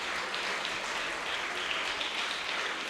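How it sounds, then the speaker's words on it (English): An audience at a prime minister's remarks applauding teachers, a steady wash of many hands clapping evenly for about three seconds, moderately distant with no voices over it. "today I want us to give all the teachers in the education system a round of applause"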